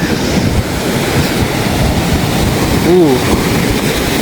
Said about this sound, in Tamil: இஞ்சால பாருங்கள் கடல் அலை எப்படி இருக்குன்னு பெருசாக அலம்பி வருது 2 பாறைக்கு நடுவால்